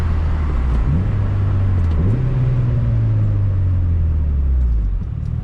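A Mitsubishi Lancer Evolution VIII engine with a full bolt-on setup drones steadily at close range, revving up and shifting gears twice with rising pitch, loud and continuous with no talking.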